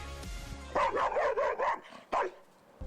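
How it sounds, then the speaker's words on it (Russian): Guard dog at a chemical-radiometric centre barking in a rapid burst of several harsh barks, then one more sharp bark after a short pause, close and loud. "Суровый пес по кличке Черри охраняет химико-радиометрический центр"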